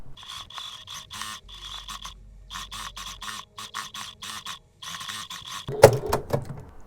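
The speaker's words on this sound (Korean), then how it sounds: "이제 박음질을 해주도록 하겠습니다" A sewing machine stitches fabric for a toddler's dress in short rhythmic runs, its needle chattering in quick bursts separated by brief pauses, close and moderately loud, before a clatter of handling at the end.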